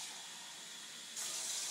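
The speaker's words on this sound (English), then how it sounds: "So we are going to turn the tap water. Okay, we'll put some water in here." Tap water runs into a container in a steady hiss that grows louder and brighter partway through as the flow increases, with no voices.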